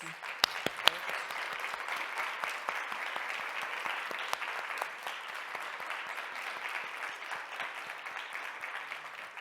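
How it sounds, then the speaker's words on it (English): An audience claps for several seconds after a panel discussion, a dense steady round of applause with a few sharp individual claps standing out at the start. "let's give these incredible ladies a round of applause."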